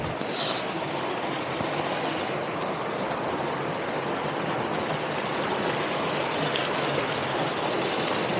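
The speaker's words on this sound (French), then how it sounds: "je vais juste passer ce torrent et reprendre la vidéo dans quelques instants" A rushing mountain torrent in winter roars steadily and close by, a dense, continuous wash of water noise with a few faint splashes while it is crossed.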